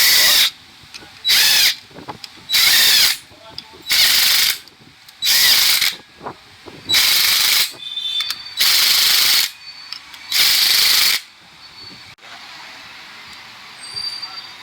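A hand ratchet tightens the bolts on a motorcycle clutch cover: about eight loud, close bursts of rapid clicking in a steady back-and-forth rhythm, heard alone with no voices.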